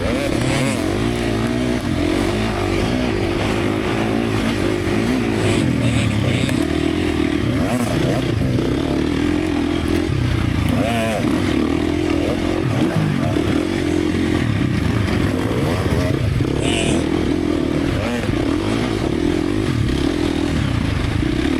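Dirt bike engine racing in a harescramble, a loud continuous motor snarl with constant revving and shifting, close up from the rider's position, with rattling and scraping over rough terrain.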